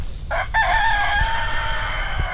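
A rooster crows once near chicken coops outdoors on a property, a clear drawn-out call standing alone over light ambient noise.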